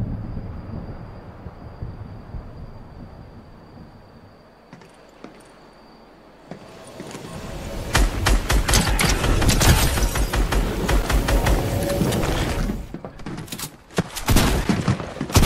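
Rocket launcher fire and explosions in Fortnite: after a quieter stretch, a loud flurry of sharp blasts and cracks erupts and continues in rapid bursts to the end.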